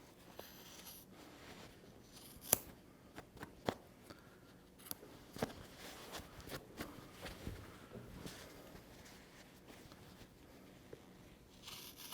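Scissors trim mukluk material in short, quiet, close snips scattered irregularly across the stretch, with faint handling rustle between cuts and no talking.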